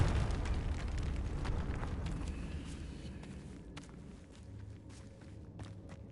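A deep, rumbling explosion from the Confringo fire spell in Hogwarts Legacy, loud at first and slowly fading into a low roar with scattered faint pops.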